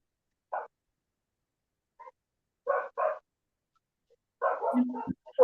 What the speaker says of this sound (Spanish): Hay un perruli por ahí ladrando